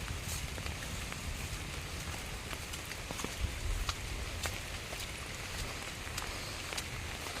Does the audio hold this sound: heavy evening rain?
yes